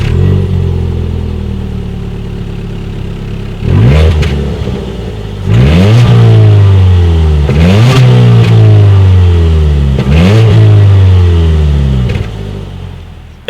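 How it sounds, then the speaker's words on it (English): Exhaust of a 2019 Ford Fiesta as the engine idles, then gets four sharp revs that each rise quickly and fall back toward idle, loud and close, with no talking. "As always, here is that exhaust clip."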